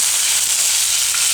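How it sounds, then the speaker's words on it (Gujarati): Mustard seeds crackling and spluttering in hot oil for beet poha, a dense close hiss of tiny pops, brief and steady. "આ રીતે તતડવી જોઈએ રાઈ, તો જ ગમે"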